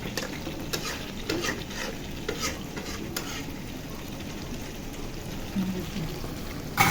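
Chicken kosha is stirred in a pan with a steady scraping and soft sizzling, punctuated by a few sharper clinks of the spoon, while a voice is faintly present.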